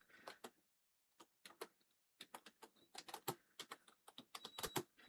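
Computer keyboard typing in quick irregular bursts of close, crisp clicks, with short pauses between runs of keystrokes and no talking.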